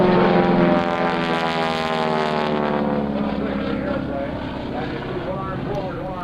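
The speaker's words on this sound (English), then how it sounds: "flies the airplane over" A loud propeller aircraft drones steadily overhead at the 2001 NAES Lakehurst airshow, its engine pitch wavering and slowly fading a little toward the end.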